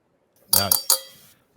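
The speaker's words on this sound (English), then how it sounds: "you got the pen on the cup." Two quick clinking taps on a cup ring out and fade, a pen striking it in short succession, with another tap just starting.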